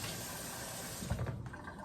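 Water poured into a crock pot over a corned beef brisket, a steady close gush that swells into a splashing burst near the end, with no speech.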